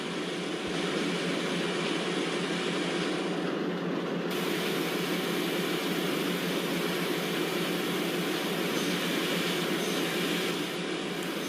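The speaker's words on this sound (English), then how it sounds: "So let's slow down our train by applying the brakes." Train from a simulator game of an Indian express run, steady broadband rumble and hiss of a train slowing under brakes, constant and loud throughout with no voices.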